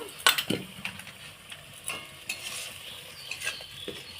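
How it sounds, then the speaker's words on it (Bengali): Spice paste with Kashmiri chili powder is stir-fried in a pan, giving a soft sizzle under repeated scraping and clinking spoon strokes against the metal, close and uneven. "দিয়ে আমি মশলাটাকে অল্প সামান্য একটুখানি কষিয়ে নেব"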